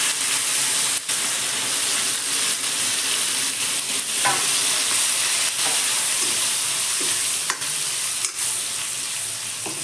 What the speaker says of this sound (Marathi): आता आपण तेलामध्ये वांगं टाकून घेऊया